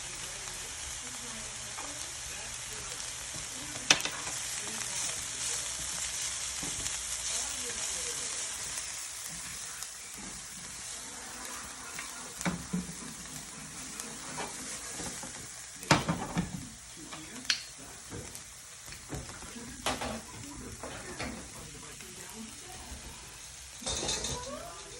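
Rinsed, still-damp farmer's market kale sautés in a pan with garlic, salt and pepper, giving a soft, continuous sizzle broken by occasional stirring scrapes and utensil clicks.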